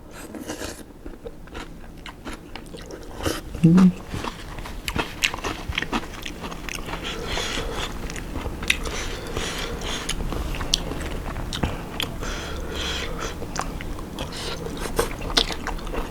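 Glass noodle salad with minced pork being eaten up close, with a steady stream of small crunchy, clicky chewing and biting sounds throughout and no talking.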